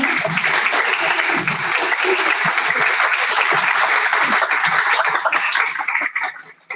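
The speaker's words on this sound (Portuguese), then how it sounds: "eu gostaria de pedir, da parte de vocês e de todos nós, um aplauso" Audience applause at a campus event, dense steady clapping from many people that fills the room for several seconds and then thins out toward the end.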